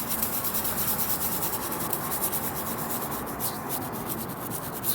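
Rubber car trim scrubbed with cleaner and a brush in a double swirling motion, giving a close, steady rubbing scrape with slight rhythmic pulses and no talk.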